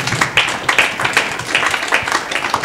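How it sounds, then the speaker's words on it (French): Audience applause for a mother at a Congolese gospel single presentation, a steady burst of close, dense clapping with distinct individual claps rising above the crowd. "On peut applaudir pour la maman."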